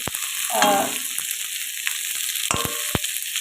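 Fish frying in a hot pan for a fresh fish curry cooked with vegetable stems and lentil dumplings, with a steady crackling sizzle and a few sharp clatters of utensils near the end.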